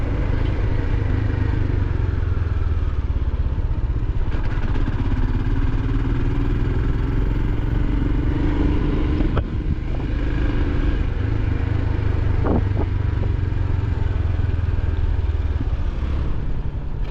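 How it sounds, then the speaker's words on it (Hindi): A Royal Enfield Scram 440 motorcycle cruises steadily along a country road, its engine humming loud and continuous with wind rush and a couple of brief clatters from the road surface. "और ऐसे कंट्री साइड रोड्स में बाइक चलाने का मज़ा ही कुछ और होता है।"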